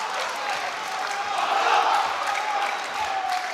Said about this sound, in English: As his crowd raised the volume and encourage him from the balcony